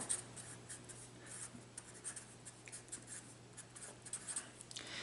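Pen or pencil writing a note on paper during a precalculus lesson, a steady run of soft, close scratching strokes with small pauses, alone with no talk.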